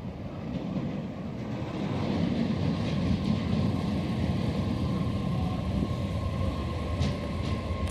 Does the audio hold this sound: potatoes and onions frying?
no